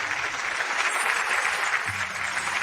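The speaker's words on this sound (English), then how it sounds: "Thank you for your applause." Steady applause from a fashion show audience as designer Tina Shaw is welcomed for her collection Resonance, a dense wash of many hands clapping throughout.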